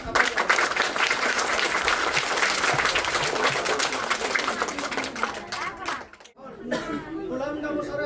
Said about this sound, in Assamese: সেয়েহে সকলোকে মই এটা বাইদেউৰ কাৰণে হাতৰ তালি দিয়াৰ কাৰণে